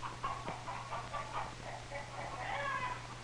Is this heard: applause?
no